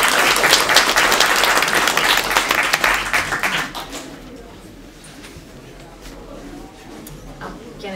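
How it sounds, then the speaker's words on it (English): Loud audience applause at a job-seeking event in Oulu, dense clapping that carries for about four seconds and then dies away into quiet room tone. "So let's applause for all of us."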